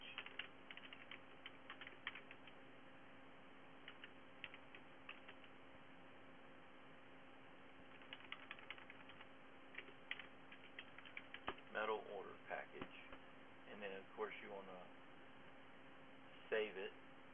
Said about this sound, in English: So I'm going to type in here